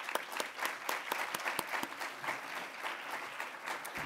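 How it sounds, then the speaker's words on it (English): An audience at a 2013 health and wellness presentation applauds after a plaque is handed out, a steady wash of many hands clapping at moderate volume throughout with no speech. "please give them a round of applause"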